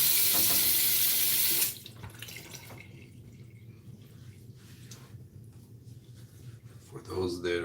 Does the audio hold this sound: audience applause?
no